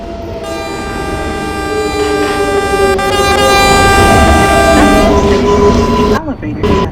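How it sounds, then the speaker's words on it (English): An R188 7 subway train arrives at the Grand Central 42nd Street station, its loud sustained horn blaring over the rising rumble of the cars, with a platform announcement voice heard alongside. "There is a train approaching the station."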